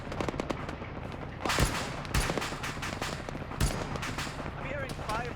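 Video game gunfire crackles in rapid automatic bursts with a few heavier single shots, close and dense throughout the whole stretch.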